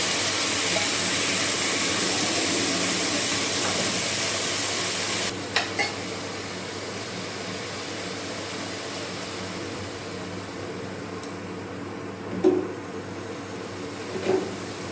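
Spinach sautés in oil in a pan over low heat, giving a steady, close sizzling hiss that drops in level partway through, followed by a quieter sizzle with a few soft stirring scrapes.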